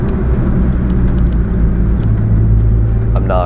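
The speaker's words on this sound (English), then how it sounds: "I can just whip the car around these corners like it's nothing." A BMW E46 M3 driven hard around street corners, a steady loud engine drone and road rumble from inside the car, with faint clicks and a brief whine near the end.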